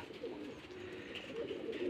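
Giribaj pigeons cooing softly and continuously, a faint, low, murmuring coo with no voices.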